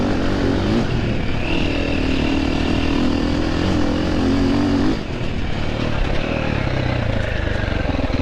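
A 2026 Triumph TF450C dirt bike accelerates hard through its gears, a loud, continuous engine drone that rises in pitch, drops briefly at a shift, then climbs again, close and alone.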